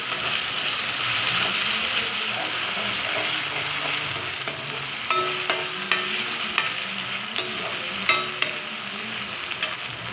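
Ingredients for a Tamil fish gravy sauté in hot oil in a pan, a steady close sizzle and frying hiss with scattered clicks and scrapes of stirring, no talking.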